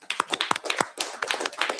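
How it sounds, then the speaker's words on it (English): Brief, close applause in a state House Health Committee hearing room, with a handful of sharp, uneven claps that rise and fall for about two seconds. "Give him a big hand, please."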